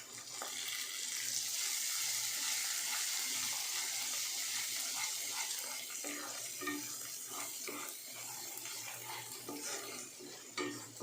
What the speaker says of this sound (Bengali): এবার এগুলো আমি ভালো করে কষিয়ে নেব।